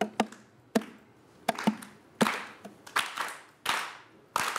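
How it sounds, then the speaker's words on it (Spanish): An audience claps along in time at a live comedy-music show, producing sharp, irregular bursts of hand claps that are loud and close, with no talking over them. "¿Me podéis ayudar con las palmicas?"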